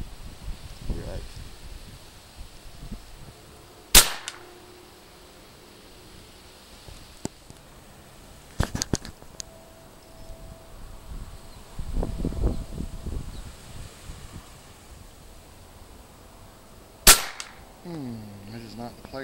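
A .25 caliber Hatsan BT65 SB Elite air rifle fires outdoors while being sighted in at 50 yards, with three sharp, loud cracks spaced several seconds apart amid rustling, faint insects and some brief low talking.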